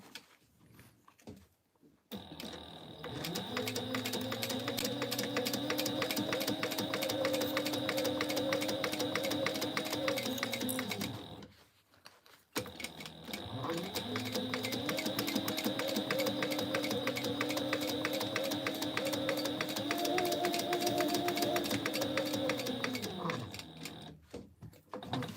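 A sewing machine stitching a quarter-inch seam on a tote bag, running in two long steady bursts of rapid, even needle chatter separated by a short pause.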